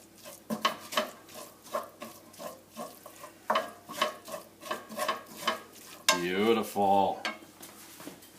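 Food and cilantro are mixed together in a pan, with rhythmic scraping and stirring strokes repeating about every half second, close by, followed by a brief louder burst of clattering near the end.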